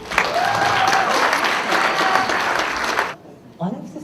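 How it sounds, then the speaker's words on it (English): Wedding guests give the couple a round of applause, a dense, steady burst of clapping that runs for about three seconds before cutting off abruptly, followed by a brief faint sound. "if we can just have a round of applause for them"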